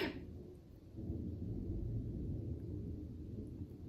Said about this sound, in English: It is thundering and lightning and pouring outside